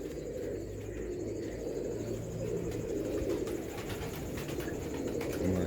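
Original Almari pigeons coo steadily and close by, a low throaty burble that runs through the whole stretch, with faint chirps and light background noise mixed in.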